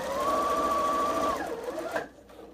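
A sewing machine chain-pieces a run of fabric pieces with a steady, fast humming whir that slows and winds down near the end, then quiet with light handling noise.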